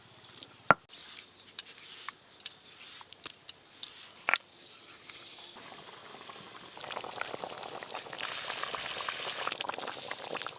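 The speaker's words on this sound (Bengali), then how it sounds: "পুর ভরা পটল, এবার খুব ভালো করে ফুটিয়ে নেব।" Stuffed pointed gourd dorma simmering in its gravy: a few sharp pops and spatters at first, then a steady, dense bubbling boil that grows louder and fuller in the second half.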